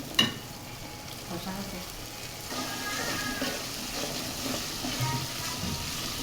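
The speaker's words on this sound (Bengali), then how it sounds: "আর দমের গুঁড়ো একসাথে সবগুলো দিয়ে এই মরিচগুলো কষাতে কষাচ্ছি" Chillies frying in a pan with chilli, turmeric and ground spice powders: a continuous, even sizzle with soft stirring scrapes and a sharp knock at the start.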